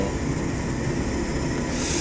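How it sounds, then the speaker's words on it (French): Engine of a VL3 ultralight aircraft in Microsoft Flight Simulator 2020, heard as a steady, dense droning roar for about two seconds with no talking. "Et le bruit d'un ULM n'est vraiment pas le même que dans un avion."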